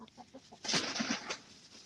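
A backyard hen gives a few soft low clucks, then a louder burst of close clucking, with no talking over it.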